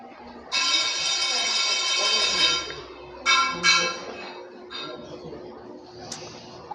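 Bells jangling in a classroom during a Vedic maths lesson: one sustained, ringing burst, then several shorter jingles, close by over quiet room noise.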